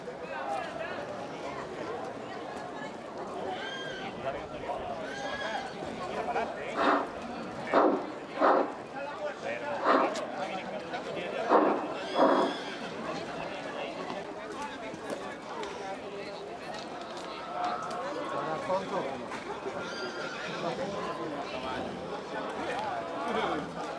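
Horses harnessed in Andalusian style carry riders in an agricultural cavalcade leaving a sanctuary in Tarifa, with scattered clip-clop hoofbeats and a few louder bursts over steady talk and crowd murmur.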